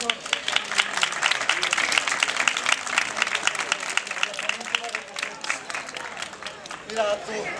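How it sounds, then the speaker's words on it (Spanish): A crowd at a Balearic Islands Day festivity applauds with brisk, fairly loud clapping that carries on for several seconds, with voices talking over it toward the end. "Un aplauso a ver si te le cura el chichón."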